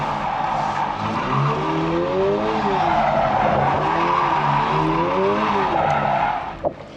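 A car drifts doughnuts on a track, handbrake pulled as its tires skid and squeal in long repeating wavering sweeps over a steady loud engine roar, close by and without talk.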